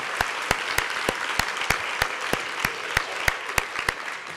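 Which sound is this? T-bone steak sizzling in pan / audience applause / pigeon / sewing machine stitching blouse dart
audience applause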